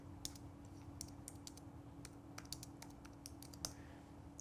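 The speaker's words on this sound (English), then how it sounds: "now I can type in what I wanted it to say" Quiet typing on a computer keyboard, a loose stream of light, separate key clicks over a steady low electrical hum, with no talking.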